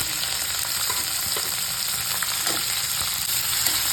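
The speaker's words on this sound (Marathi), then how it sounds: "आणि टोमॅटो कांदा घालायचा आता मिरची सगळं मी एकत्र घालते" Tomato, onion and green chilli frying together in a pan with curry leaves for upma; a dense, constant sizzle fills the clip near and loud, with scattered light clicks and scrapes of stirring throughout.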